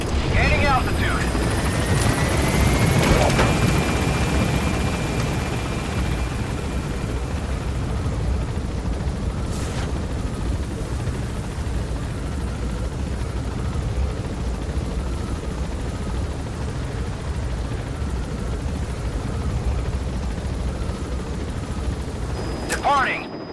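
Military helicopter at a landing zone in the Metal Gear Solid 5 video game, its loud steady rotor roar filling the whole stretch as it lifts off, with a rising whine near the start.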